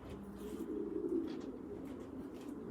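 Racing pigeons cooing steadily, a soft continuous low coo close by, with no talking.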